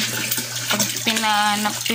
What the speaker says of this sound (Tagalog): pati itong washing ay nilagyan na namin ng tubig